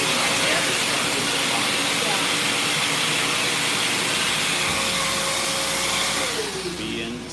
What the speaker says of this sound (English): This vacuum is like standing right next to a dead end. Yeah, it's really, really loud